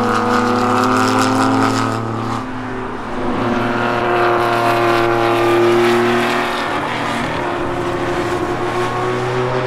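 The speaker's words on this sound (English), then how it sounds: "the constant roar of Porsche engines screaming in the background behind you" Loud, continuous engine roar from Porsche racing cars at Lime Rock Park, with rising and falling pitch as cars pass and accelerate along the track.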